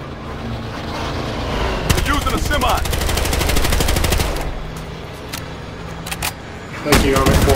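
Rapid automatic gunfire in the video game Battlefield Hardline, a long loud burst of shots followed by scattered single cracks and another burst, with game noise underneath.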